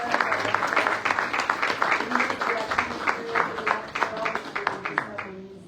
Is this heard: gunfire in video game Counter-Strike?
no